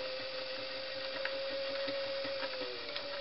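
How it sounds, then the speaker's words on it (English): A Singer Model 347 sewing machine winding a bobbin, giving a steady close mechanical hum with a constant whirring tone and faint rhythmic ticking, alone and unbroken throughout. "you just continue to wind at a moderate pace, and you'll see the thread going back and forth"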